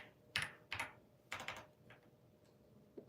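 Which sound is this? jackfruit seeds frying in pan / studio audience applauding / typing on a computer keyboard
typing on a computer keyboard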